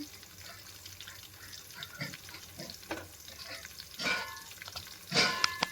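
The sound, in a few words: chopped onion and garlic frying and stirred in oil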